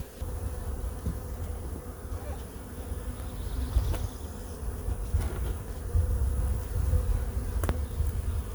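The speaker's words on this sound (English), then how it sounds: "there's bees all the way to the top here, so they're starting to get pretty crowded" Honey bees buzz steadily around a crowded, boosted colony as a deep brood box is opened, a dense, continuous hum close by with no talking.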